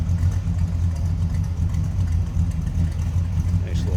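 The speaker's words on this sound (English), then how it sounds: "no crazy exhaust on it, but it's got a nice rumble to it" A 1966 Buick Skylark Gran Sport on a stock exhaust idles steadily from behind the car, a deep, even low rumble that holds for the whole stretch with no revving.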